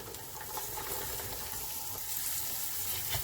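Carrots and fresh beans fry in a pan for vegetable biryani, giving a dense, continuous sizzle with scraping stir strokes, close and fairly quiet, with no voices.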